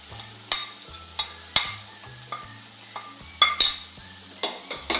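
Fried bitter gourd stirred into a sizzling pan with curry leaves, giving repeated sharp scraping and clanking strokes of a spoon against the pan over a steady low sizzle, no voices.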